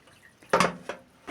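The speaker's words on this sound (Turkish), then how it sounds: "Evet biberlerimi, domateslerimi yıkadım." Water splashes and drips while peppers and tomatoes are rinsed for a mixed pickle, in two short close wet bursts over a quiet background.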